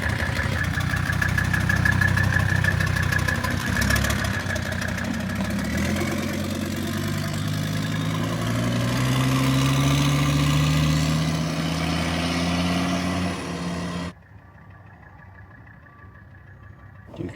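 A 1978 Mercedes 300CD fitted with a swapped engine runs loudly close by, a steady rumbling drone that rises and falls as it revs, then drops abruptly to a quieter low idle near the end.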